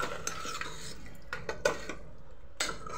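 Mutton trotters being stirred with spices and salt in a pot, with soft scraping and several distinct spoon knocks against the metal over a quiet background, no speech.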